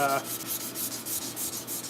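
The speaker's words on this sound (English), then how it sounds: "now that I'm hand sanding it and running my hand beside the edge all this time" Hand sanding along a sharpened sword blade makes a steady, close scraping rub that repeats in even back-and-forth strokes, with no voices.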